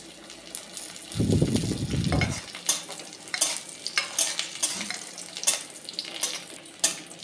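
Ingredients hit hot ghee for polao with a short, loud sizzle burst, then a spoon stirs and scrapes the pan in a series of light clinks and taps.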